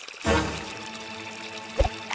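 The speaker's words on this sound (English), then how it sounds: "The water's headed for the comic books." Cartoon water pouring and splashing in the kids' puzzle game Splash Dash, with a burst of gushing flow at the start, a steady wash beneath, and a brief splash near the end.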